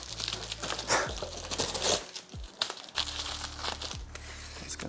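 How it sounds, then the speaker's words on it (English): Packing tape peeled and torn off a cardboard mailing box holding rare anthurium plants, giving repeated close crinkling, ripping bursts with brief pauses between pulls. "I'm just trying to get rid of all this tape here"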